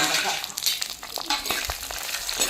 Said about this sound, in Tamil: காய் நல்லா வதங்கி வரட்டும்